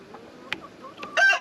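Rooster and hens in a backyard coop: a short burst of clucking and a crow-like call at the end, fairly close and alone without talk.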